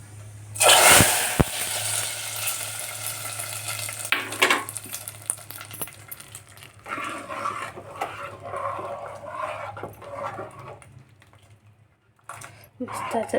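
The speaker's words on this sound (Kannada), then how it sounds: "ಒಗ್ಗರಣೆ ಇದಕ್ಕೆ ಹಾಕೋಣ ರೀ" Cumin and other tempering spices hit hot oil for rasam with a loud burst of sizzling, then settle into a softer crackle and stirring clatter while a voice talks faintly in the background.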